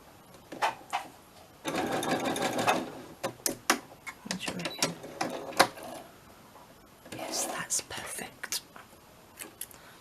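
A sewing machine runs a zigzag stitch on scrap fabric in bursts of rapid mechanical clatter, with longer runs and short taps between, close by, with soft whispery speech in places.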